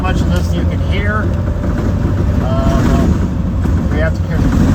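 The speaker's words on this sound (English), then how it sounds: "We have to compete with the truck vibrating, rattling." A Ford E450 4x4 Powerstroke truck climbs a washboard mountain road, its engine droning loudly and steadily while the body and box rattle and vibrate throughout. A voice speaks intermittently over the noise.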